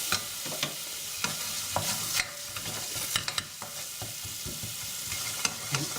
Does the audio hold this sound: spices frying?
yes